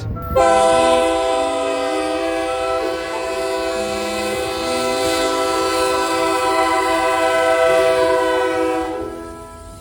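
A K&O freight train pulls out of a Wichita yard at night, its horn sounding long, loud harmonic blasts close by over the low rumble of the moving cars.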